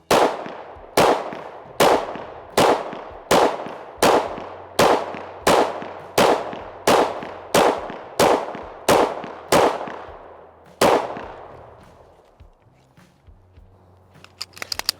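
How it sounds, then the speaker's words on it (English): Thirteen MR920P pistol shots fired left-handed at an even pace, each loud, close crack followed by a trailing echo, then a pause and scattered faint clicks and handling noise at the end. "And now left-handed, I'll shoot it weak again."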